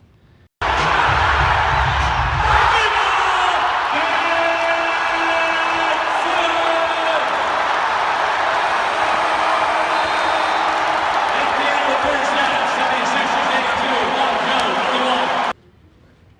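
A crowd at a preseason basketball game erupts after a three-pointer, loud sustained cheering, whooping and shouts from fans and the bench filling the whole stretch, with voices yelling over the roar.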